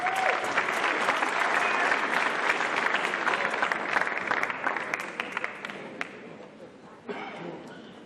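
Dense audience applause at a 2019 high school graduation ceremony, a steady wash of many hands clapping that thins and fades toward the end with scattered claps, then a brief swell near the close.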